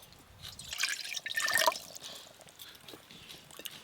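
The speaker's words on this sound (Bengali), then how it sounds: "মোচা সেদ্ধের জন্য কড়াতে জল দিয়ে দেবো।" Water is poured into a wok for boiling banana flower, a short close splash and trickle swelling in the middle and then dripping away, with no talk.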